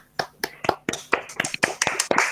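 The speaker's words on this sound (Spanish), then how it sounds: "un aplauso para ustedes" Participants at the close of an online teachers' course on teaching numbers clap over the call: a dozen or so sharp, separate hand claps at an uneven pace, close and fairly dry.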